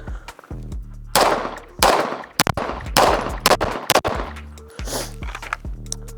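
Rapid pistol shots from a Cardinal Arms G2P ported 2011 during a shooting drill, loud sharp cracks in quick strings with short pauses between groups, echoing on an outdoor range.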